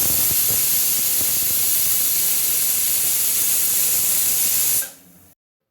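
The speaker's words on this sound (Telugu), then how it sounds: "ఇప్పుడు మూత పెట్టి చక్కగా ఒక 5 విజిల్స్ రానించేసుకోండి" A pressure cooker cooking dal releases a loud, steady, broadband hiss of steam for about five seconds before cutting off abruptly into silence, close by and without any voices.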